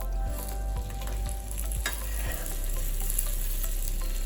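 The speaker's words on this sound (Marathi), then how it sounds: "दोन्ही ही पुरी आपल्याला व्यवस्थित भाजून घ्यायच्या" Leftover chapati puris roasting in oil on a pan, a constant close sizzle with a few soft taps and scrapes early on, no voices.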